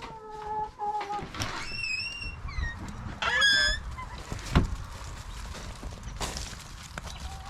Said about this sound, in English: Looks like the chickens are already checking it out.